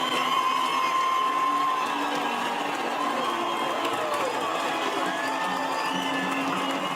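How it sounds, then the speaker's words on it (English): A large crowd cheers and applauds in an ovation for a president-elect greeting people from a balcony. It is a dense, continuous roar with scattered whoops and shouts, steady throughout. "he received a big ovation"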